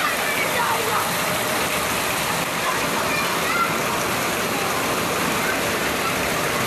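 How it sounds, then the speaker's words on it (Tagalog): Very heavy rain pouring down on Guerrera Street in Santa Cruz, a dense, unbroken roar of water that holds steady and loud from start to finish, with voices faintly present beneath it. "Sobrang lakas ng ulan."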